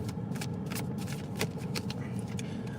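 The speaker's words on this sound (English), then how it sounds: "Let's pull a couple of cards because I have to go back." A deck of tarot or oracle cards being shuffled during a spiritual reading, a steady run of soft papery riffles and taps over a low background hum, close and moderately quiet.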